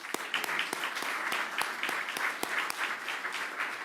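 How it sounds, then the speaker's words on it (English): A crowd at a Fleet Week ceremony in New York applauds Gold Star families with sustained, fairly distant clapping, a dense even wash of hand claps with a few sharper claps standing out. "Let's give these members a round of applause."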